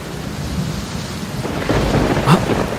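A thunderstorm with steady rain falling, a low thunder rumble building and swelling toward the end, with no voices.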